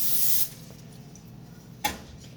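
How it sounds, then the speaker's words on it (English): Cooking spray hisses onto a baking pan in one strong burst at the start, followed by a short clatter and quieter room sound, with no talk. "I'm just spraying it down real good"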